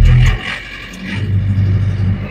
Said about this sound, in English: All right, machine is started. We'll give it about half throttle.